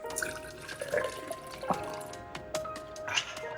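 Rain falling in a film scene, a steady wet patter with scattered drips and splashes, moderately quiet and continuous with no voices over it.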